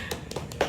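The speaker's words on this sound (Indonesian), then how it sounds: "Tepuk tangannya." A few hand claps, roughly four quick separate slaps spaced apart, fairly faint and close with a quiet background.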